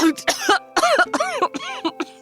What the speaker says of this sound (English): real coughing